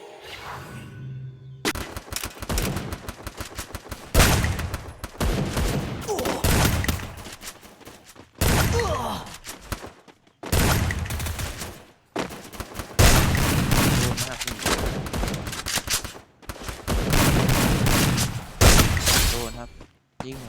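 Rapid bursts of gunfire from the mobile battle-royale game Free Fire, loud and near, coming in repeated dense volleys separated by brief silences, with a voice talking over parts of it.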